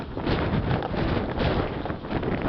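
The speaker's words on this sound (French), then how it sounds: "il y a un vent glacial" Strong icy wind in Gien, France blasts directly against the microphone, producing a dense, steady roaring rumble with no other sounds audible.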